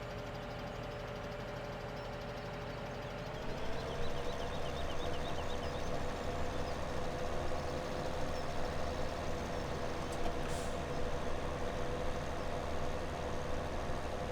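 A Fendt tractor engine in Farming Simulator 17 drones steadily while pulling a tipper, a low continuous rumble that revs up slightly a few seconds in and holds, with no speech.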